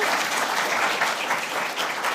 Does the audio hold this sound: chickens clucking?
no